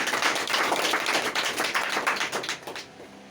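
An audience at an indoor direct-selling training session claps in a dense, loud burst of applause that holds steady, then thins out and fades near the end, with no talk over it.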